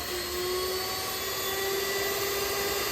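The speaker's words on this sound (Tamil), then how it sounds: "பட்டரை சேர்த்துட்டு இதை வந்து ஒரு பீட்டரில் விஸ்க் வச்சு நீங்கள் வந்து நல்லா அடிச்சுக்கோங்க" Electric beater whisking butter at low speed, a steady close whine with a constant motor hum running unbroken throughout.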